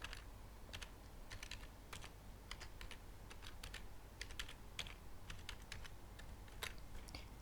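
Someone types an email address and password on a computer keyboard, a quick, close series of light key clicks in short bursts against a quiet background.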